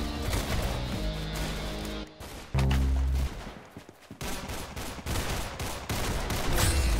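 Roblox Arsenal video game gunfire crackles in rapid bursts and loud single shots, mixed with booming impacts and game music, fairly dense and continuous.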